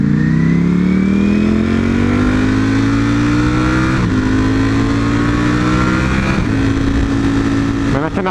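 A motorcycle engine revs and shifts through gears while riding on a road, loud and close throughout, with the pitch climbing then dropping at each gear change near the end.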